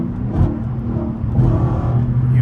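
A Dodge Scat Pack with its muffler deleted revs loud and close, a deep engine rumble rising and swelling in two surges with no talk over it.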